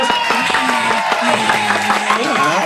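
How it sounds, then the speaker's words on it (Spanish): Applause rises to welcome a guest on a podcast episode, a steady wash of clapping layered over a bright musical bed, with a voice briefly heard underneath. "¡Aplausos!"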